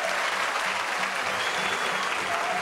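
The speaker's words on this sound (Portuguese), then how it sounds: "Uma salva de palmas nesse momento maravilhoso." A crowd at a 1998 anniversary celebration for the Pousada do Rio Quente applauds in a loud, thick, unbroken wash of clapping that stays even from start to finish.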